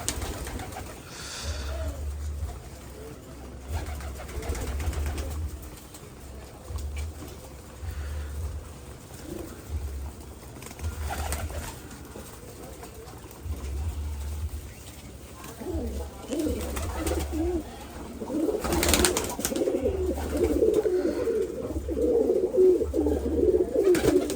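Pigeons, including racing pigeons, coo in a pigeon loft in low, rolling calls that are faint at first and grow louder and more continuous near the end, over a low rumbling hum.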